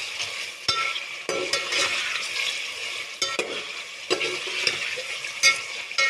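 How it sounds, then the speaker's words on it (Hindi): Chicken frying in a karahi, a steady hiss of sizzling oil with irregular scraping and stirring strokes and occasional sharp clinks of a utensil against the metal pan, close and fairly loud. "अब मैं इसको फ्राई करूँगी।"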